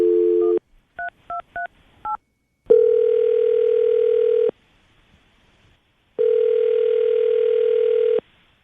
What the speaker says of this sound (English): we're going to call her right now, see if we can get her on the phone